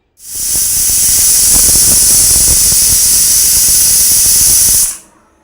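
A loud, sustained high-pitched steam hiss from a pressure cooker cooking goat head curry, starting abruptly, holding steady for several seconds, then cutting off sharply.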